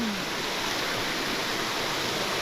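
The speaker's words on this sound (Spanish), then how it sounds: "Vamos a meternos abajo del chorro de agua" Waterfall in a rocky gorge at São Thomé das Letras, Brazil: a dense, close, loud roar of falling water, continuous and unbroken throughout.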